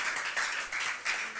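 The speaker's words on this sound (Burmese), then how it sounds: "သူယေရှုကိုကျမတို့လက်ခုပ်တီးပြီးတော့ဂုဏ်ပြုကြရအောင်" Congregation clapping hands together during a Tuesday worship service, a steady flurry of many overlapping claps that carries on with brief dips and swells, close and fairly loud.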